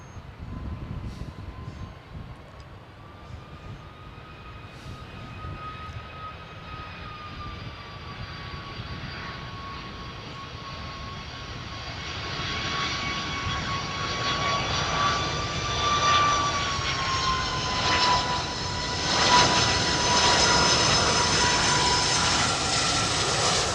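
A Boeing 757 with Rolls-Royce RB211 engines drones on approach, a steady engine roar with a clear rising whine that swells louder as the jet draws nearer, with no voices.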